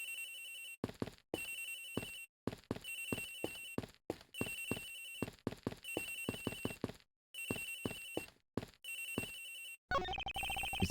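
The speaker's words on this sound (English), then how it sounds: "Agent X phone! It's ringing from somewhere, sir." A ringtone from the Agent X phone in the game Ace Attorney Investigations plays in repeated electronic bursts separated by short gaps, loud and steady, ending in a brief burst of noise.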